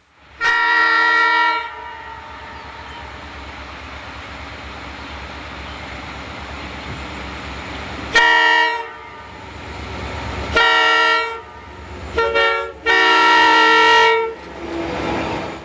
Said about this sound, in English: SD40 number 6071 leads a northbound at Russ Junction.